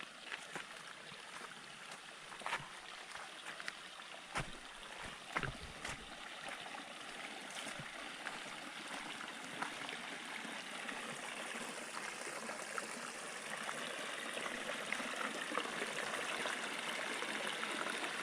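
Creek water rushes and trickles steadily, a continuous babbling flow heard nearby with a few brief knocks and clicks, no voices.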